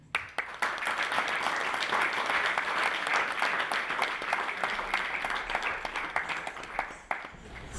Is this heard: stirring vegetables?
no